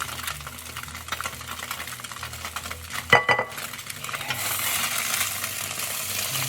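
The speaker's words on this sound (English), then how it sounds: "Get it into a pan, kiss it with some heat." A vegan egg-free scramble frying in a hot pan with butter and oil, utensil stirring and scraping against the pan, then a steady bright sizzle swelling toward the end, no talking.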